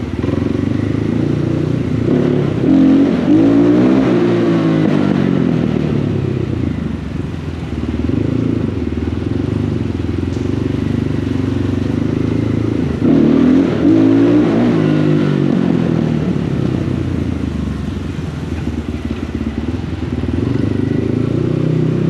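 A cross motorcycle revs hard on a legal paved spot during wheelie practice, engine climbing in two loud surges with a steady idle-level drone between them, close to the listener.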